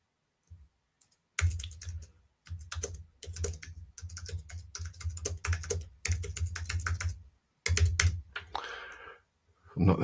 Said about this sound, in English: I'm not the fastest typer.